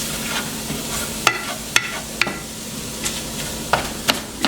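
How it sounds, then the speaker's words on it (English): Seasoned meat being stirred around a hot pan, with a utensil scraping in irregular knocks and clicks over a steady low sizzle, close and moderately loud, no voices. "I'm just going to go ahead and stir this around, mix it all up well"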